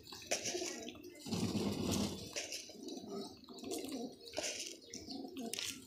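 Pigeons coo nearby in a loft, soft low throaty calls repeating over a steady background hiss with occasional splashy noises, fairly faint throughout.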